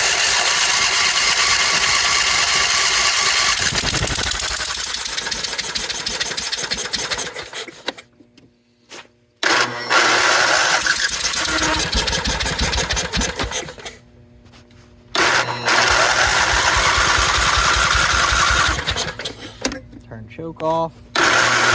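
Husqvarna yard tractor, left sitting for ten years, cranks with choke on and full throttle, then catches and runs loud and rough, cutting out briefly twice before firing again, with someone talking over it.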